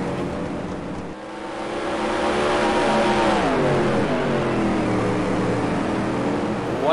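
Super late model race cars at Mesa Marin Raceway roar past during a Fast Car Dash, the engine note swelling loud and close, then dipping as the pitch drops on the way by.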